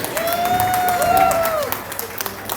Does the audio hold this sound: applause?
yes